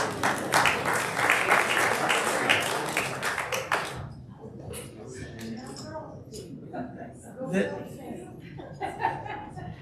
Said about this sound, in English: everybody applaud Denise.